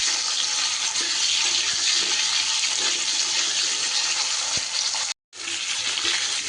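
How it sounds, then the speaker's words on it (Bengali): Salted potato pieces fry in hot oil with a dense, steady sizzle that holds loud and constant, with a very brief break near the end and no talk. "আলুটা বেশ সুন্দর করে একটু ভেজে নেব।"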